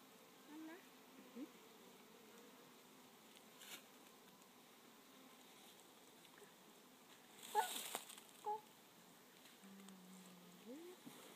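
Faint, intermittent buzzing of bees flying close by at a hive, with a few louder passes against a quiet outdoor background.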